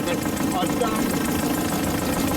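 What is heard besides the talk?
steam launch engine running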